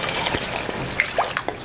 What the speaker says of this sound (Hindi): अब इसके अंदर थोड़ा सा हम पानी शामिल कर लेते हैं ग्रेवी के लिए।